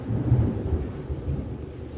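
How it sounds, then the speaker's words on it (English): Thunder from a summer thunderstorm rumbles low and deep, rolling in a long uneven swell outdoors, with a steady wash of rain underneath. "We're having a thunderstorm."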